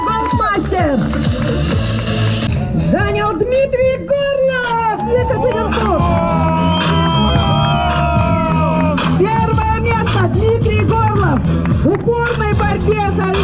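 Crowd at a racing cup awards ceremony in Magnitogorsk roars steadily throughout, with loud cheering, whoops and shouts layered over dense hubbub and voices, never dropping out.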